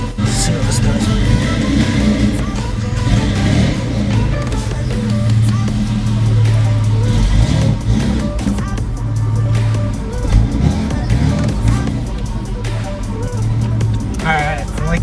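A V6 Mustang with a homemade straight-pipe dual exhaust rumbles continuously at close range, a loud, throaty low drone, while a person talks over it.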